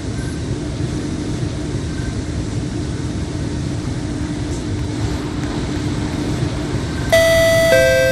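Constant engine drone inside a train in a Roblox train game, ending with a bright electronic chime of clear tones for the closing doors.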